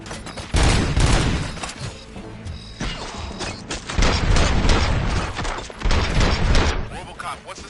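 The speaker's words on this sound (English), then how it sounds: "Gunshots? What's going on?" Gunfire erupts in the video game RoboCop: Rogue City, loud bursts of rapid shots and crashes in several volleys, with brief pauses between them and game voices talking over the barrage.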